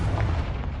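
A Confringo blasting spell in the Hogwarts Legacy video game goes off as a short, loud, muffled boom with a rumbling low burst that lasts under a second.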